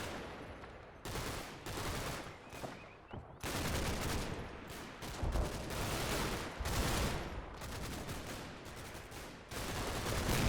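Dense bursts of automatic machine gun fire in the WWII game Combat Mission: Battle for Normandy, several long rattling volleys with short gaps between them, loud and continuous, with no talk over them.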